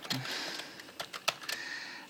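Quiet keystrokes on a computer keyboard, a few irregular soft clicks and taps spread over two seconds with no talking.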